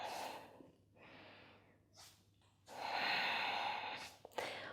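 Slow yogic Ujjayi breaths drawn in and out through the nose, each a soft, airy throat hiss rising and fading in turn, close and quiet with no talk.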